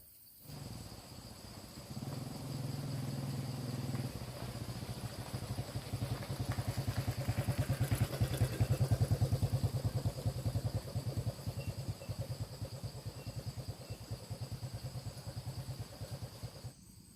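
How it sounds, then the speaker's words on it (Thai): A tractor engine chugs with a steady rapid thumping while plowing a rice field, growing louder then holding, heard from a short distance with a faint insect-like buzz. "เสียงรถไถก็ กำลังไถนาอยู่เลยนะครับ"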